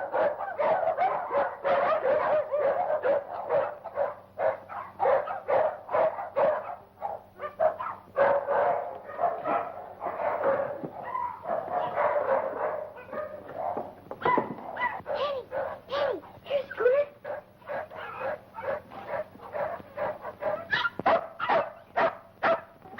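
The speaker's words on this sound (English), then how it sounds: "What's all the barking about? Oh, the dogs are nervous tonight." Nervous dogs bark repeatedly in irregular bursts, mixing sharp yips and whimpers, close and lively over a faint background hum, with the barking continuing throughout.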